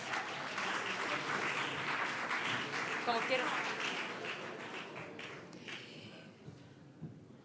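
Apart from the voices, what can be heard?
audience applause for Ainhoa Beija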